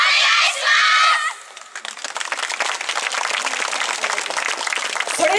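An audience at a yosakoi dance stage during an outdoor festival applauds and claps steadily after a woman's amplified announcement, with the clapping continuing evenly to the end.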